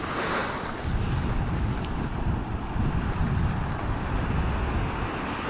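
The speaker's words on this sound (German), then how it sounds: "Richtig schöne Wellen." Surf at Maspalomas beach on Gran Canaria on a calm, windless day, a steady broad wash of breaking waves with constant low rumble and hiss, no voices.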